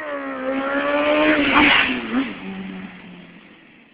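A Suzuki GSX-R 750 motorcycle engine rises as it approaches and passes close by, then fades away with a falling pitch.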